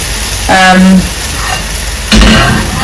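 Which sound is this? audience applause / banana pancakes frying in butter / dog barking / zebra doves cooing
banana pancakes frying in butter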